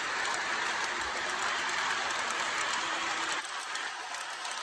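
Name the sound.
model train running past on track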